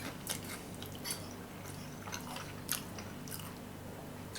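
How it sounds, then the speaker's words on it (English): Biting and chewing into the rich, crunchy pastry crust of a steak and ale pie, with several crisp crunches over steady mouth noises, close and fairly quiet, with no talk. "You can hear the crunch on the crust."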